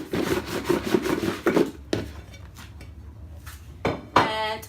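A metal roasting pan of sausages is shaken, giving a run of close clattering rattles and scrapes, then a few separate knocks and clinks after short pauses.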